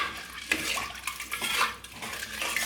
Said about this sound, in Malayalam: എല്ലാം കൂടി നമുക്കൊന്ന് ഇളക്കി കൊടുക്കാം